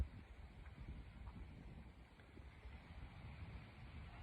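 Wind picks up outdoors, a steady broadband rush with low gusty rumble that swells and eases over a few seconds, fairly close to the microphone, with no talking.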